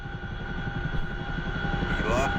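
A big twin-rotor Chinook helicopter in the DCS flight simulator beats out a steady, rhythmic rotor thump over a constant turbine whine, loud and close throughout.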